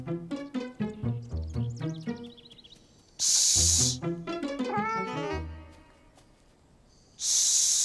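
Cartoon kitten meowing, a run of short, rapid, high mews repeated in quick bursts, broken by two loud hissing sprays.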